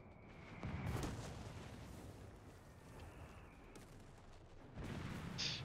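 World War II battle gunfire and artillery in the strategy game Company of Heroes 3, Italian campaign: muffled, fairly quiet bursts and booms, strongest near the start and end over a low rumbling background.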